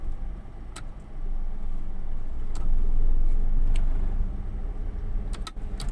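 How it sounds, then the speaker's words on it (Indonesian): Cars pass on a road near Jalan Fajar Aladin, heard from inside a moving vehicle: a steady low road rumble swells and fades as traffic goes by, with a few sharp ticks and no talking. "Kenapa jadi banyak mobil lewat?"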